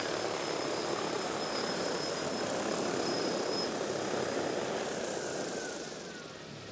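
DJI Agri T40 agricultural sprayer drone flying at a durian farming seminar, a steady loud propeller whine and buzz holding constant, then fading slightly at the end, with no talk.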